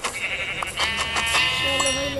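Sheep bleating in the Minecraft video game, a few wavering, nasal bleats close up and fairly loud, overlapping with one another across the short stretch.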